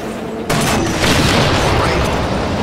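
Dense, loud gunfire from the Halo 4 video game starts abruptly and keeps going as continuous booming bursts, with players' voices mixed in underneath.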